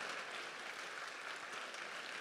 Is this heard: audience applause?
yes